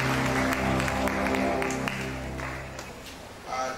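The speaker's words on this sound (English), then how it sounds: "Let's give University a round of applause." Audience applause at a University of Benin inaugural lecture, a steady, moderately loud wash of clapping that tapers slightly toward the end, with hall reverberation and some background voices.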